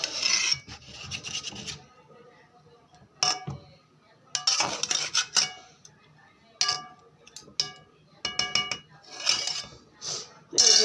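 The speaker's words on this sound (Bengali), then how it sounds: "দিয়ে ডিমের ঝোলটা একটু নাড়াচাড়া দিতে হবে।" A spoon scraping and rasping around a pot of Bengali egg curry with garam masala, in bursts of stirring strokes with short pauses, close and fairly loud, no talking.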